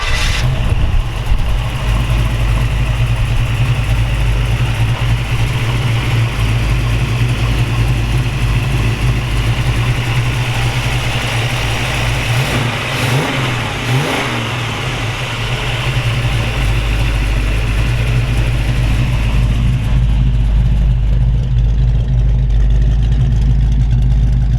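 A 1932 Ford Model 18 roadster hot rod engine runs steadily at a loud, close idle with a deep low rumble, holding through a brief dip before surging slightly louder, with no talking over it.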